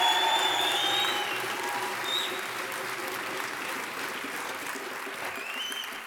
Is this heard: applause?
yes